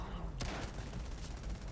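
A shotgun in the Starfield video game fires a loud blast, followed by a quick series of rapid shots that overlap in a dense, steady barrage.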